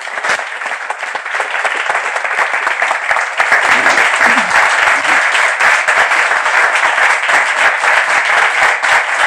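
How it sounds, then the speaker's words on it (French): Loud, sustained applause from a French television studio audience welcoming a guest onto a talk show set, dense clapping building and holding steady throughout with no voices over it. "Alors, sous vos applaudissements"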